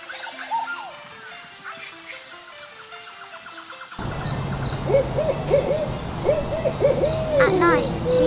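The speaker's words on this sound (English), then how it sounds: "At night, we often hear the mysterious sound of the forest owl." A forest owl hoots repeatedly in a steady series of short calls in an animation, over a quiet background that turns into a louder, rumbling ambience halfway through.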